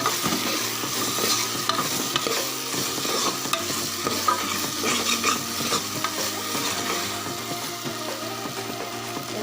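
Vegetables for veggie fried rice sizzle steadily in a hot pan while a utensil stirs and scrapes through them, a continuous close frying hiss with irregular clinks and scrapes throughout.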